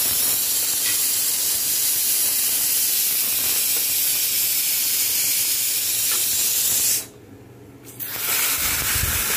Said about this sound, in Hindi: इसको कुछ समय तक हम इसको फ्राई करेंगे मसालों के साथ